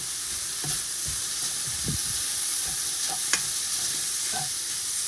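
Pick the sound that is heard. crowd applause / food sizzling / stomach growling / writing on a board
food sizzling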